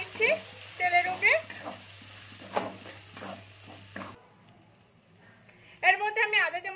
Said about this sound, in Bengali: এখানে মটরশুঁটিটা যে মানে আমি পিষেছি সেটা আমি তুলে দিলাম তেলের উপরে। এটা একটু আমি নেড়ে চেড়ে নিচ্ছি তেলের উপরে।